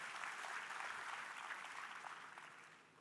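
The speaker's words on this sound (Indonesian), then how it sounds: "Tepuk tangan yang meriah buat Tuhan kita." Congregation at a church anointing prayer service applauding, a dense wash of many hands clapping together, steady and fairly loud throughout and tapering slightly toward the end, with no voices over it.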